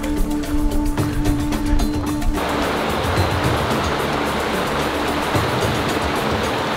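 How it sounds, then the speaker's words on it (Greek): The Aoos river in a narrow gorge in northeastern Zagori, Epirus, rushes strongly with a steady broadband roar that starts mixed with other sounds and turns to a continuous, close, loud flow for most of the stretch. "Περπατάς και ακούς το ποτάμι."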